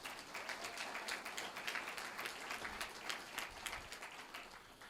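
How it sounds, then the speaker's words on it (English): An audience at an evening gathering hosted by a realtor's office gives a round of applause, a steady, moderately quiet patter of clapping sustained throughout with no voices on top. "If you could give them a round of applause."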